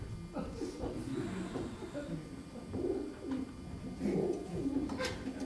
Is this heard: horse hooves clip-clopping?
no